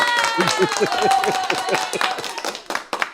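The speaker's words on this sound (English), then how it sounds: "Can I get a hand clap real quick?" A few people in a podcast studio clap their hands in a quick, uneven rhythm of sharp claps, close to the microphone, while voices talk and cheer over them.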